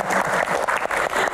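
Studio audience at a health-themed Q&A panel breaking into rhythmic group applause, loud bursts of clapping pulsing in a steady pattern close by.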